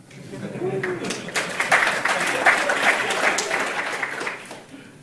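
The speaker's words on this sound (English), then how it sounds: "An applause wouldn't be bad at this time" An audience at a talk on HTTP and APIs breaks into applause that swells to a steady clatter of clapping and then tapers off, with a voice briefly audible at the start.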